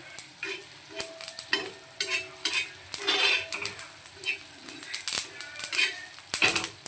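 Mutton boti masala is stirred and fried in a pan. Close, busy scraping and clattering strokes come in uneven bursts over a constant frying sizzle.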